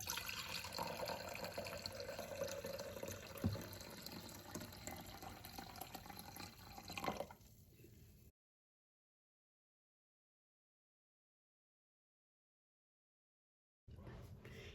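Room-temperature water is poured into a measuring cup already holding half a cup of vinegar, a steady close splashing fill that runs for several seconds, then cuts to silence before resuming briefly.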